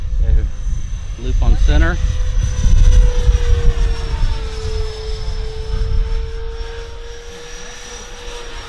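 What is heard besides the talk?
Dynam Gloster Meteor radio control jet flying at full throttle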